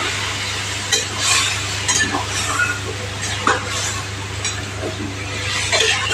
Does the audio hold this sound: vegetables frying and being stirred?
yes